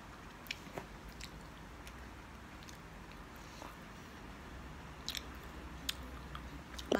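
Space candy filled with sour powder being bitten and chewed up close, soft crunches and sharper bite clicks scattered irregularly over quiet background.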